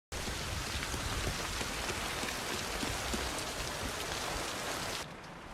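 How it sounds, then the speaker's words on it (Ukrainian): Steady, dense rain pours down without a break, a constant hiss of drops hitting surfaces, then drops slightly in level near the end. "Не встиг Джорджі вийти під дощ, як штани в нього вже мокрі."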